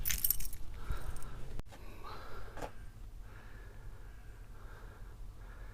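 A spare set of car keys jangles loudly up close for about a second and a half, then stops with a sharp cut; faint rustling and low background rumble continue after, with no talking.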